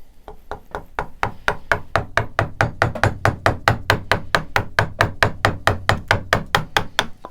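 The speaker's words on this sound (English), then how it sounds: "So if I chisel along like that, everything should be fine." Chisel carving along the wood grain on a relief carving: a close, steady run of about thirty crisp knocking strikes, evenly spaced and slightly quickening, with no voices.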